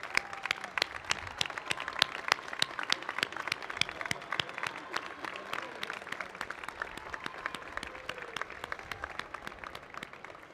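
Commencement audience applauding steadily for about ten seconds, a dense field of many hands clapping at moderate, distant level in a large ceremony hall.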